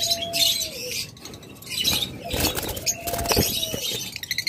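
Caged pet birds, including lovebirds and cockatiels, give thin whistles and chirps with bursts of wing flapping and rustling, close and irregular.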